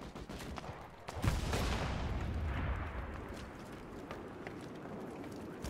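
Artillery fire support in the World War II shooter Enlisted: a heavy rumbling blast swells about a second in and rolls on for several seconds, with scattered distant shots and battle noise around it.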